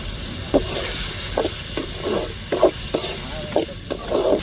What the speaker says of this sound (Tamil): தக்காளி வெங்காயமும் நல்லா வதங்கட்டும்